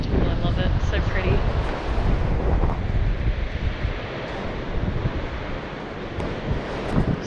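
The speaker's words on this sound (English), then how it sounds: "Just something about the sound of the waves too." Ocean waves roll in continuously at Point Lonsdale beach, a broad, steady roar of surf mixed with strong wind buffeting the microphone, loud and close throughout.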